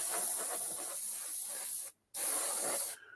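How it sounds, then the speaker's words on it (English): Lacquer thinner sprayed from an aerosol onto a freshly painted scale model, a loud continuous hiss in two bursts with a brief pause between, no talking. "give it a decent blitzing with some lacquer thinner"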